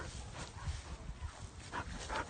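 A year-old young dog plays with a ball outdoors on a leash, with scuffling, panting and soft whimpering yips in steady bursts, fairly near, no talk.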